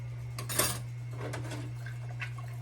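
Dishes and silverware being washed in a kitchen sink give a few light clinks and clatters with some water sounds, over a steady low electrical hum.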